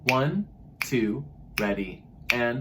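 A teacher snaps fingers in a steady beat, four crisp snaps evenly spaced, each alongside a counting voice that speaks over them.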